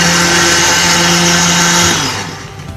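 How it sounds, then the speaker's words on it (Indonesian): A kitchen blender purees mango into juice, giving a loud, close, whining motor roar that runs steadily and then winds down near the end. "Kita blender sampai halus."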